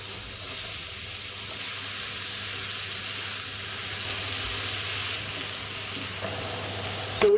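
Onion and capsicum frying in hot oil in a pan: a close, steady crackling sizzle that runs evenly throughout, with a brief louder clatter of stirring at the very end.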